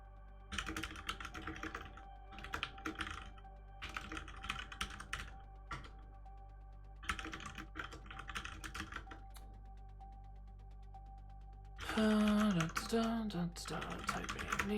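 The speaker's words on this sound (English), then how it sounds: "Typing" Bursts of quick clicking keystrokes on a computer keyboard with pauses between them, close and fairly quiet, with a louder stretch of speech near the end.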